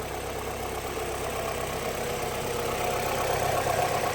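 A car engine idles smoothly and steadily with no misfire, heard close up as an even, continuous hum and rumble with no other sounds over it.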